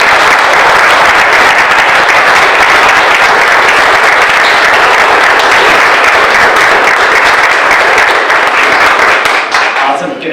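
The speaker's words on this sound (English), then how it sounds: "can we give them a big round of applause?" Audience applause at a ribbon cutting ceremony for new affordable housing at 1005 Broadway, a dense, loud, steady wash of clapping from a crowd that continues for about ten seconds before starting to thin at the end.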